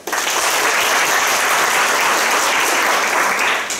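A crowd applauds steadily at a Teacher of the Year awards ceremony, a dense wash of clapping that swells in and fades out near the end.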